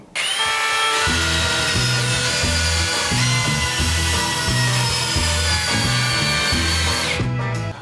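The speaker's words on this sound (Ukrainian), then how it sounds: "І я буду закручувати різні гвинти." A Tekhmann cordless drill driver on first speed drives screws, likely into wood, with a loud close motor whine that pulses in repeated bursts as each screw bites, running almost unbroken for several seconds before stopping.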